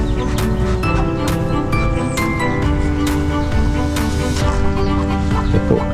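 A brooding duck sits among chickens on a small backyard poultry farm, with near, continuous clucking and fowl calls rising and falling over a busy background.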